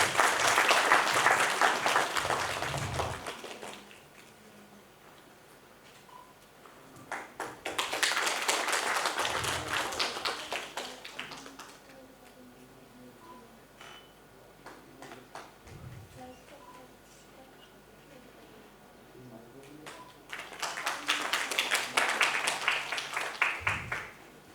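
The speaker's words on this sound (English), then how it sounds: "So please give a big round of applause for him." Three bursts of audience clapping ring out at an inaugural ceremony on the National Education Policy during a felicitation, each swelling for a few seconds and then fading to a quiet room between them.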